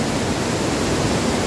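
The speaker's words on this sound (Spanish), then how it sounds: "Acá nos encontramos en lo que es la cascada 5C." The Cascada 5C waterfall at San Mateo de Otao, Peru, roars as a dense, steady rush of falling water, loud and close without a break.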